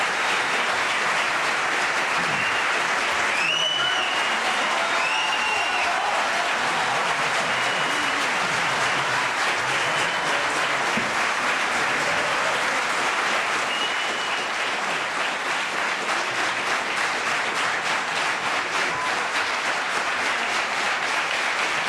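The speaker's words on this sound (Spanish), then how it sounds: "les voy a pedir un aplauso" An audience gives a long, steady round of applause as Isabel Díaz Ayuso, President of the Community of Madrid, is welcomed onto the stage, dense clapping holding evenly throughout with a few faint whistles near the start.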